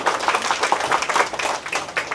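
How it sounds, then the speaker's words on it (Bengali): Hearty applause from a crowd at a Jagaddhatri Puja clothing-donation camp, a steady, dense patter of many clapping hands lasting a couple of seconds with no speech. "জোরদার করতালি।"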